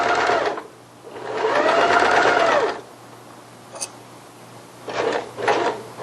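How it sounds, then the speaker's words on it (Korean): A sewing machine stitches a child's strappy dress in a few bursts. There is a long steady run, a brief click, then two short quick runs, all loud and close. "끈이 찝히지 않고 1cm 남겨놓은 쪽까지 박음질을 해야 됩니다"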